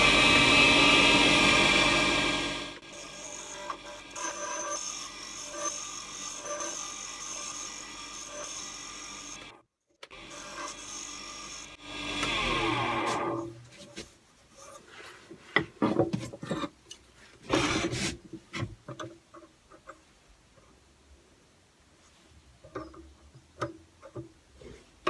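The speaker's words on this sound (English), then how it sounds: "so I'm going to sand those down now until I get all the tool marks out" Wooden pen blank being sanded on a lathe to remove tool marks, a loud steady whir opening the stretch, then fainter intermittent rubbing and ticking contact noises broken by brief gaps, with no talk.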